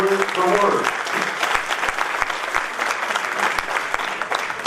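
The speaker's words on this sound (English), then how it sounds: "Oh, we can give them a round of applause." Applause from an audience honoring the women being recognized at the Onyx Women On The Move 2019 event: dense, steady clapping that fills the room throughout, with crowd murmur and some talk mixed in.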